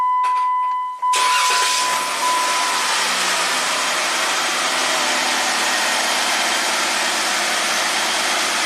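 A Jeep Rubicon engine, just repaired after exhaust-bank faults and rattling, cranks and starts after a moment of quiet, then settles into a steady, loud idle that continues to the end.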